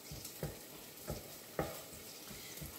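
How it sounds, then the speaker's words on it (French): Chopped shallots sizzle in olive oil in a pan, a steady close frying hiss broken by several short scraping stirs at roughly half-second to one-second intervals, with no voices. "Donc nos échalotes sont rissolées"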